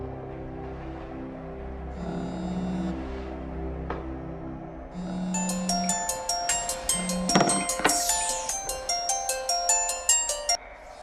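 A phone ringtone plays a bright, repeating electronic melody, starting quietly and then growing louder with quick rhythmic notes over a low hum.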